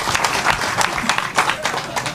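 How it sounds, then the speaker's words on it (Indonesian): An audience at a motivational talk breaks into applause, a burst of clapping with distinct sharp hand strikes over a crowd wash, fairly close, with a voice briefly heard among it. "tepuk tangan"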